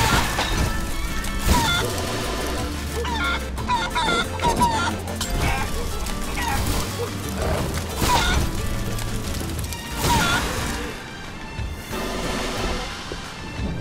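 A cartoonish chicken clucks repeatedly amid smashing hits and crashes in the video game Guacamelee 2, busy game sound effects and music layered densely throughout.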